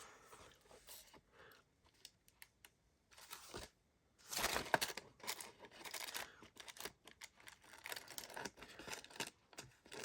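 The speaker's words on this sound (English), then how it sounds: "Scissors, scissors." Scissors snipping through gel-printed painted paper while decorating journal tags, a few close, crisp cuts amid quiet paper rustling and handling.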